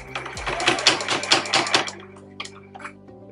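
A sewing machine stitches a fabric mason jar bag in a quick rattling burst of needle strokes, then slows to a few sparse mechanical clicks before stopping.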